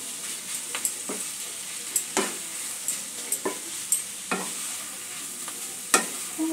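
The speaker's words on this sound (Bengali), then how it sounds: "মাছটা দিয়ে সমস্ত উপকরণগুলো একটু মিশিয়ে দেবো।" Katla fish being stirred with ingredients in a frying pan, a soft steady sizzle under scattered scraping knocks of the spatula, about a dozen irregular strokes, close and fairly quiet.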